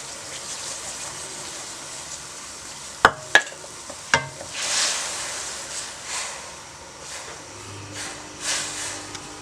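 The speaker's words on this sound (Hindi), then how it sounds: "और अब आपने इसमें मुसलसल चम्मच चलाना होगा।" Semolina is stirred into hot sugar syrup for wedding-style halwa, with a few sharp spoon clinks against the pan followed by soft sizzling and wet scraping strokes.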